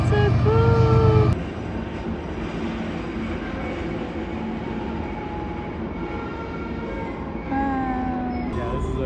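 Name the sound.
giant train passing through tunnel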